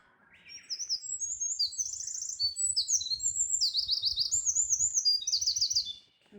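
A wild bird sings bright, rapid chirping trills and warbles in repeated phrases, close and clear, over faint low rustling on a mountain hiking trail at Odaigahara in Japan.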